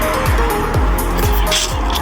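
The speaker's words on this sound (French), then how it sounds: "car là, il y a beaucoup de voitures" Steady heavy street traffic, with many cars rolling past close by in a loud continuous roar and a regular pulsing rhythm of passing tires.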